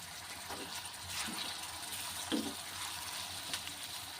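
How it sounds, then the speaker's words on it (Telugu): Onions and curry leaves fry in a pan with turmeric for a brinjal tomato dish, giving a soft, steady sizzle with faint stirring scrapes, fairly quiet and heard on its own without talk. "ఆనియన్స్ బాగా వేగాయి కదా"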